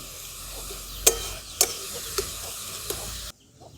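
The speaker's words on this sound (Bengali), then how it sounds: "এই চিনিটাকে এই গাজরের সঙ্গে খুব ভালোভাবে মিশিয়ে নিচ্ছি।" Sugar being stirred into carrots in a pan, a steady faint sizzle with a few sharp spoon taps against the metal, ending abruptly in quiet.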